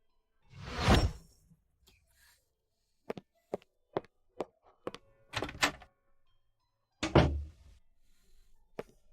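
A door with a keypad code lock opens: a loud whooshing thud comes first, then a run of sharp close clicks and taps, then another heavy burst of door movement near the end, with no talking.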